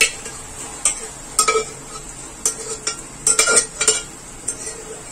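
Spoon scraping and clinking in a pan as boiled eggplant is mixed in for baingan bharta, with sparse, irregular knocks and scrapes close by and no talk.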